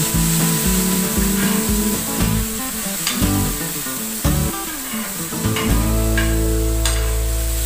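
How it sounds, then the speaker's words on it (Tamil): Onions and green chilies with tomato sautéing in hot oil for tawa paneer: a constant sizzle with occasional utensil knocks, under steady tonal background music. "வெங்காயம், பச்சை மிளகாய் போட்டு நல்லா வதக்கிடலாம்."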